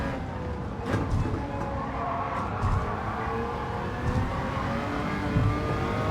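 An engine-swapped 2014 Jaguar F-Type R races in a video game, its engine droning and whirring steadily with a few brief revving surges, at moderate loudness and with no talk.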